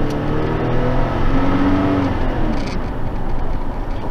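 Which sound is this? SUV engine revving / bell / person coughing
SUV engine revving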